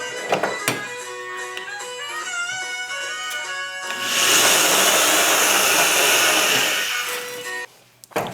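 A power drill whirring steadily, rising into a louder, rougher grinding burst midway as it bites, then spinning down to near silence.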